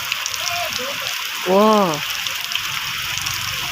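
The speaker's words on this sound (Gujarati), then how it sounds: "પાણી તાર, અંધરાધાર વરસાદ" Heavy torrential rain pouring down in Karamdiya village, a dense steady patter and hiss throughout, with a man's short exclamation rising over it briefly.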